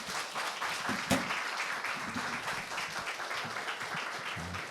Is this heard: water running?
no